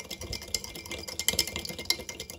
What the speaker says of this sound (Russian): И перемешаю, чтобы сахар и соль растворились.